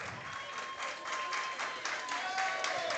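A wrestling crowd in an arena cheers and claps in a steady wash of applause, moderately distant, with a voice speaking over it.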